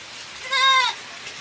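Goat bleats once on a farm during a rainy morning, a single clear wavering call of about half a second standing out over a quiet background.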